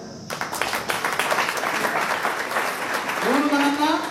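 Audience applause after a speaker's call to clap, a moderate spread of hand clapping that swells and holds, with voices talking over it toward the end.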